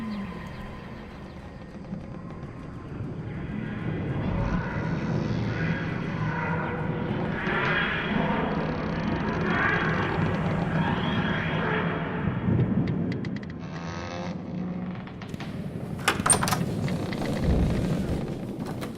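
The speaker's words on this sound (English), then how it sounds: "It's gonna be a fast takeoff. Bit of turbulence." A spaceship makes a fast takeoff through turbulence in a Doctor Who audio drama, heard as a loud, steady roaring rumble that fills the whole stretch and swells with a few sharper bursts near the end.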